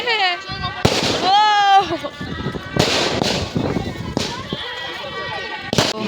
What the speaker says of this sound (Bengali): বাপরে কি বাজি ফাটছে!